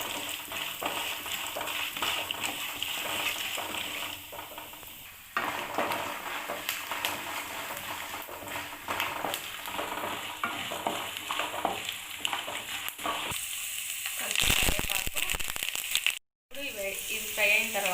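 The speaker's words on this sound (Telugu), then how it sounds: "నెక్స్ట్ పోపు దినుసులు, అందులో వేరుశనగ పప్పులను యాడ్ చేసుకోవాలి. ఇది మొత్తం ఫ్రై అయిపోవాలి." Peanuts and tempering spices fry in oil, a continuous close sizzle with stirring scrapes and utensil clinks, briefly cutting out near the end.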